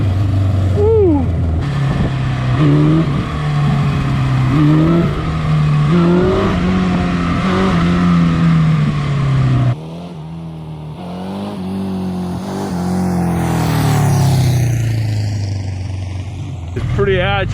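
A 1970s superbike engine revs hard while it is ridden, its tone climbing through the revs with gear-change dips and a brief drop around the middle, loud and close under wind rush.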